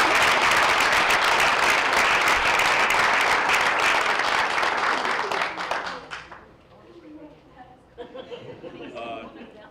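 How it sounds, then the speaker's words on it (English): Audience applause for a student at a Danbury school board meeting, a dense burst of many hands clapping that lasts about five seconds, then tapers into scattered claps and murmuring chatter. "Round of applause"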